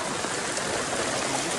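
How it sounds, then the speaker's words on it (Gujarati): Rain pours down in an open outdoor area during a monsoon downpour, a dense, steady hiss of water with no break across the short stretch. "મજાનો વરસાદ ચાલુ થઈ ગયો અમારા ખુલ્લામાં"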